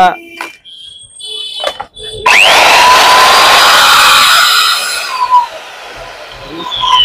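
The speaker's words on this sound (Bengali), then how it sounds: "এটা কাটার মেশিন আছে, মার্বেল কাটার" A marble cutter switched on at a power tools wholesale market in Kolkata, starting after a couple of seconds as a loud, sustained high-pitched whine that holds steady, then eases slightly toward the end, with voices in the shop around it.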